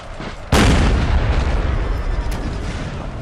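A cannon blast booms loudly and suddenly in Napoleon Total War, and a heavy rumbling roar of distant artillery fire rolls on behind it without pause.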